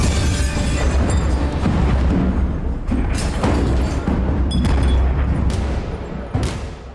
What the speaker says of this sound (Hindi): जोरदार धमाका, चकनाचूर होते शीशे, धमाके से जमींदोज होती इमारत